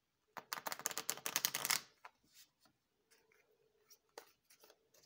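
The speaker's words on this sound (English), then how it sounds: "This is the first time I shuffled them." A slim 32-card Rhyme and Reason Wychwood oracle deck being shuffled, a close, quick riffle of papery flutters lasting over a second, then a few soft taps and handling sounds in quiet.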